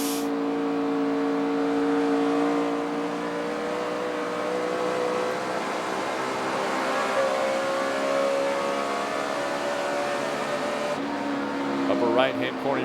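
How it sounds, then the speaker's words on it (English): Dale Earnhardt Jr.'s NASCAR Sprint Cup car works its throttle around a 1.5-mile track in 2008, a loud steady in-car engine whine that rises and falls in pitch, with a commentator talking over it. "Lap with Dale Jr. just listening to him work the throttle."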